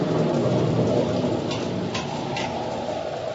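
Heavy rain lashes down in a squall at sea in a 1948 adventure radio drama, a loud, steady broadband downpour with a few faint brief ticks over it.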